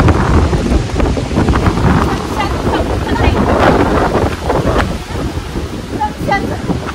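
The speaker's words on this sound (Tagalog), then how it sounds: "Lakas ng hangin" Strong wind buffets the microphone outdoors on the first day of a trip to Calgary, a loud, continuous roar with gusting surges and rumbling low buffeting throughout.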